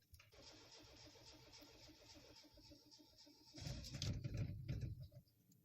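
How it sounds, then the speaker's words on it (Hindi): A cold car engine cranks with the key and fails to start. A steady, rapid starter whir chugs along for several seconds, then swells into a louder rough burst before dying away. "अभी गाड़ी बिल्कुल कोल्ड है तो स्टार्ट नहीं हुई।"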